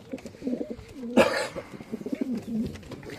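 Adana and homing pigeons coo softly in a loft, a few low throaty calls rising and falling, with one brief louder flutter.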